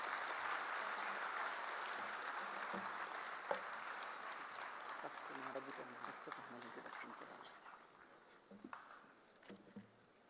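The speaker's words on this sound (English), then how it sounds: "let's welcome the dignitaries onto the stage with a round of applause" Audience at the inauguration of a state-level judicial officers' conference applauding as dignitaries come onto the stage: dense, steady clapping at first that thins and fades into scattered claps and murmurs toward the end.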